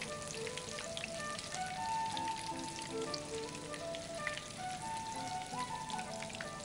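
Food frying in a pan gives off a continuous crackling sizzle with scattered pops and spits, steady and fairly close, without any speech.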